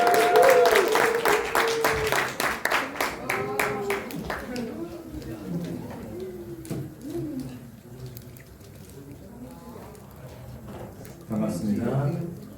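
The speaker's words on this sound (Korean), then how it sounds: "박수로 환영하겠습니다" A burst of hand clapping from a group welcoming a pastor at a church retreat for the first few seconds, then fading into scattered voices and chatter, with brief clapping again near the end.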